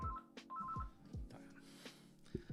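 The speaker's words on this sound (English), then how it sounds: "It's ringing now." An outgoing phone call rings through, with short repeated electronic tone bursts over low thumping background noise, close and moderately loud.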